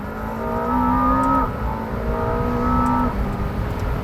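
McLaren W1 engine pulling hard on a track on a hot day, loud and close, rising in pitch through two acceleration runs with a brief gear change between them and no talk over it.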